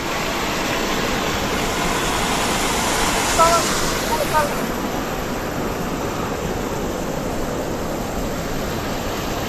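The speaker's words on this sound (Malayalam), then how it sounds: "വെള്ളത്തിനൊരു ഫോഴ്സ് നോക്കിയേ എൻ്റെ മോനെ." A powerful river rushes along a trekking route near Gandruk toward Annapurna Base Camp in Nepal. The water makes a loud, continuous roar that fills the whole stretch without letting up.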